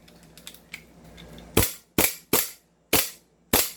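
An airsoft gun with a fixed outer barrel fires five sharp, evenly spaced shots, close and loud, after a few faint clicks of handling.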